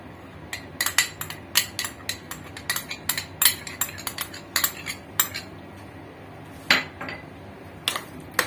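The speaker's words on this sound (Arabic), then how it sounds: "كده هنقلبهم في بعض جوه الصينية" Potato slices and cream are being mixed by hand in a baking tray, producing a series of sharp, close metallic clinks and scrapes at an irregular rhythm, alone without talk.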